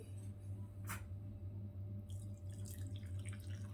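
Milk poured through a double-layer cotton cloth into a bowl gives a soft, steady liquid trickle and drip, with one brief splash near the start.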